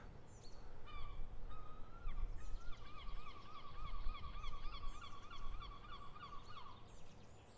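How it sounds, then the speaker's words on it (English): Birds on a golf course honk and call repeatedly in a rapid series of nasal, goose-like cries, moderately distant, over low outdoor background noise. "Must be because of all these other birds that are out here."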